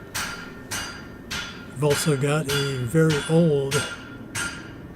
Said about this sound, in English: You can hear the blacksmithing area behind me.